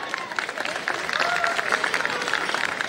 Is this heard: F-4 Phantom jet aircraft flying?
no